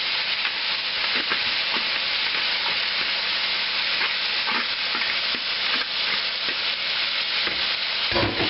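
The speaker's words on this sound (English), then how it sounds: "throw all these onions or mushrooms in" Onions and mushrooms fry in a pan on high heat for Philly deer steak subs, giving a loud, dense, unbroken sizzle with light spatula scrapes running through it.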